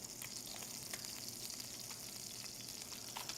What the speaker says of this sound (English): Fish cooking real good.